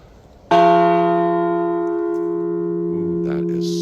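A heavy replica bell at a burial site is struck once, loud and close, its deep ringing tone sustaining steadily without fading much, with faint voices near the end.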